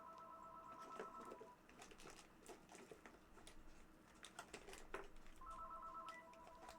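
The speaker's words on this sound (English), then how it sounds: "Now I'm gonna have to let that phone ring because it's probably somewhere." Telephone ringing in a room, faint repeated electronic ring bursts at the start and end with light tapping and clatter between them, no talking.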